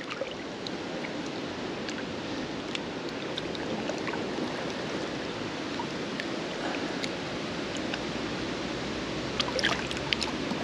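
Water sloshing and trickling beside a boat as a caught pike is released back into a lake or river, a steady wash with small splashes, fairly close and alone.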